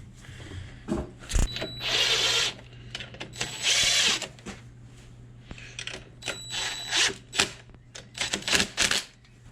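A power tool drives bolts to mount a Harbor Freight winch, with repeated whirring bursts of a few seconds each followed by quick rattling impacts, close and loud, with short pauses between runs.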